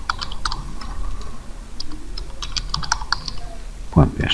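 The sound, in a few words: typing code on a computer keyboard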